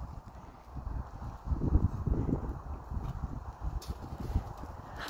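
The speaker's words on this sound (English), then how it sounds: "Try trotting a little bit, William." Horse hooves clip-clop in a steady trot with riders aboard, a young child riding double, the footfalls close and fairly loud over a soft windy outdoor background.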